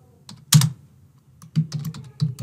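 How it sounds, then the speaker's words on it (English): Short bursts of keystrokes on a computer keyboard while a message is typed into Telegram, close and clear, in three quick clusters with brief pauses between. "I'm going to type second task"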